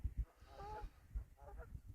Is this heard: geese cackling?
yes